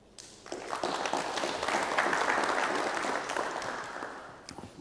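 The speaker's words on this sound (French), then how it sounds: "Applaudissez-la" Audience at a French-language success-talk conference breaking into applause, clapping swelling quickly to a full, steady roar, then thinning out toward the end, with little talk.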